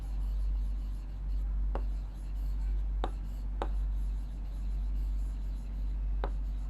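Pen writing numbers while working a maths problem, quiet scratchy strokes with a few sharp taps under a steady low hum, no talking.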